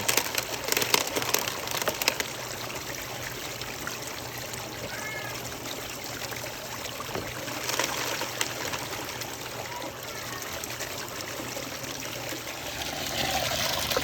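Muddy water runs continuously through a sluice box during summer gold prospecting in Arizona, a steady broadband rush with faint splashes and clinks throughout.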